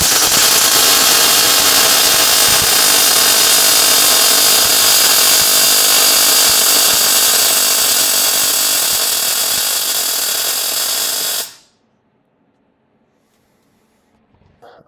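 XTE Automotive compact MIG welder laying a longer bead, a loud steady crackling buzz that runs unbroken for about eleven seconds and then cuts off abruptly into near silence.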